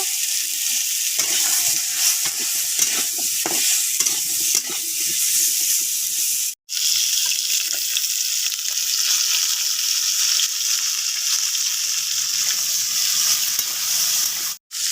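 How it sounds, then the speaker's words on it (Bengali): Potatoes and beans fry and get stirred in a hot pan, a loud continuous sizzle with scraping stir sounds in the first seconds and a brief break near the middle. "আলু আর বিনসকে একসঙ্গে ভালো করে ভেজে নেব"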